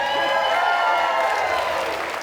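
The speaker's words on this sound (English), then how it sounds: "One more round of applause for Suzanne, everybody." An audience at a live storytelling show applauds, with a steady wash of clapping and some crowd noise holding fairly loud across the whole moment before easing slightly at the end.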